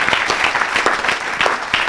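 Church congregation clapping and cheering for Jesus Christ at a service, sustained loud applause with individual claps standing out, continuous throughout.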